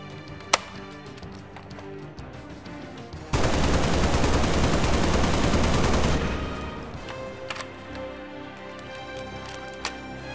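Edited gunfire effects for a LEGO Halo MA37 assault rifle: a loud, dense burst of rapid automatic fire lasting about three seconds, with a few scattered single shots and clicks before and after.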